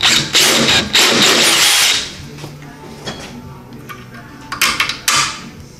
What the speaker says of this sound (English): It's got a hole in the main case, which I'm gonna drill out to fit this bolt through